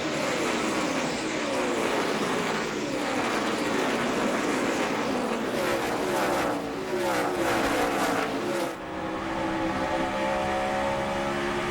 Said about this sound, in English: On board with Busch down the backstretch. See those cars moving around?